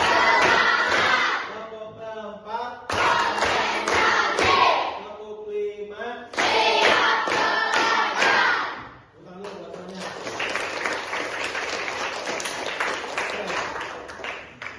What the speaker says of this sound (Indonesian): sebelumnya kita tepuk tangan dulu ya. Tepuk 1, tepuk 2, tepuk 3